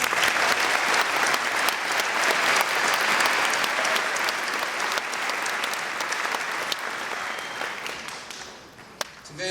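An audience at a senior awards night gives sustained applause, a loud, dense roar of clapping that holds steady for several seconds before tapering into scattered claps toward the end.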